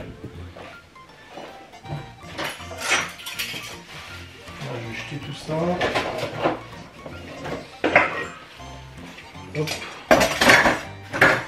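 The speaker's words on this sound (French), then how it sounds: "Voilà, j'ai rempli le lave-vaisselle." Dishes are loaded into a home dishwasher: plates, pots and cutlery clatter and clink in repeated bursts at close range while someone speaks French over the clatter.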